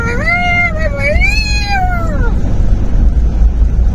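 A cat meows outdoors, one long rising and falling yowl with strong harmonics lasting about two seconds, loud and close over a steady background rumble.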